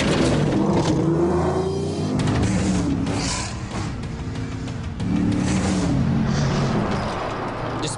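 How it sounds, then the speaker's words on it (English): A Ford Raptor off-road truck driven hard, its engine revving and roaring up and down through the gears, loud and close inside the cabin with road rumble underneath. "I cannot believe how hard I'm pushing this truck right now."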